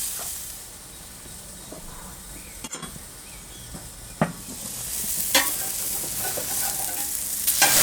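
Lamb burgers sizzling on a Weber Q gas grill, giving a steady frying hiss with scattered pops and brief scraping as they are turned, growing louder toward the end.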